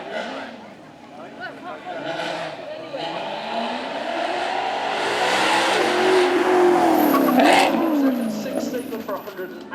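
Maserati MC sports car with a 4.7 litre V8 making 454 horsepower, driving past on a track at a supercar event, engine note swelling louder as it nears and fading away, with a commentator talking over it throughout.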